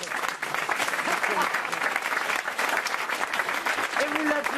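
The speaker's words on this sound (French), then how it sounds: "Et vous l'applaudissez" A studio audience applauds steadily, dense clapping from many hands sustained throughout, with a voice briefly audible over the noise.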